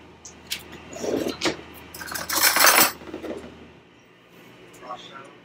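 Unsweetened chocolate and granulated sugar or stevia being stirred in a dish with a spoon, giving close clinks and scrapes of metal on the dish that build in the middle and then fade, with a voice heard briefly.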